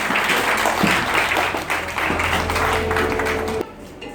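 A church congregation claps steadily together beneath a sustained organ or keyboard chord, then the sound cuts off abruptly.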